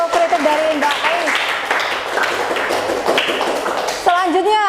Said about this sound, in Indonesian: Tepuk tangannya untuk kritik dari Mbak Ais.